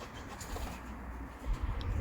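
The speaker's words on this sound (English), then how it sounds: "got some birds running around here, sorry about that" Pigeons coo softly nearby in short, low, rounded calls, faint and with no voices over them.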